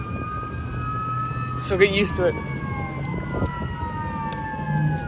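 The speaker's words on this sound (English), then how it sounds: "You can hear a lot of sirens and stuff, or a lot of cars going by because we are right next to the road." Emergency vehicle sirens wail from a nearby road beside passing car traffic, steady and somewhat distant under a constant road rumble, while a person talks briefly partway through.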